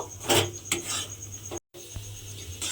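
A spoon scrapes and rubs through a thick semolina sweet mixture for sujir sandesh in a pan as cardamom powder is stirred in. Repeated rasping strokes run close and moderately loud, with a brief pause midway and no talking.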